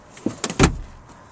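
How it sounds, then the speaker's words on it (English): Second-row seats fold down in a 2010 Toyota RAV4 with 60/40 split seating: three quick close clunks and thumps, the last one loudest, then quiet. "Over here, there are handles that you can pull to lay the seats down."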